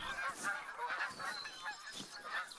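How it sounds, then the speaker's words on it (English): Geese in a fantasy blacksmith game honk over and over in a steady, overlapping chorus, moderately loud and continuous with no talking. "you can hear them, the geese"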